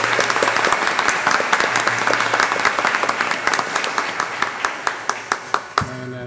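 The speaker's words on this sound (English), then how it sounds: "round of applause for everything and all the sacrifices" A board meeting crowd claps, starting as dense applause and thinning to scattered individual claps before fading out, with little talk.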